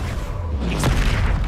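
Confringo fire spell from Hogwarts Legacy bursting as a single dull boom with a bright crack near the midpoint, swelling into a steady loud rumble that lingers to the end.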